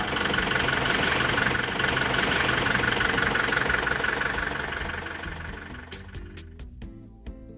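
A car engine with a faulty, stuck-open suction control valve runs rough and loud with a dense, harsh mechanical clatter, then fades lower toward the end, with a few sharp clicks near the close.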